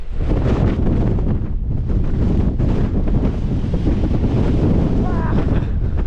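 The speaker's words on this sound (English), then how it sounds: "It's pretty windy on that edge" Strong wind buffets the microphone in loud, continuous gusts on the edge of Walla Crag in England's Lake District, roaring and rumbling throughout with slight dips between blasts.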